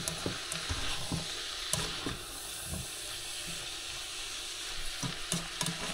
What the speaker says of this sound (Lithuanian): Daržovės turi būti įsitroškinusios, kad būtų galima net iš keptuvės valgyti.